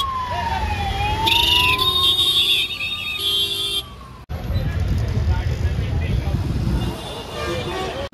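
Police sirens wail at a road accident scene with jammed traffic, a rising and falling siren tone sweeping across the first four seconds over steady traffic rumble, then a dense wash of road and crowd noise; voices are faintly present.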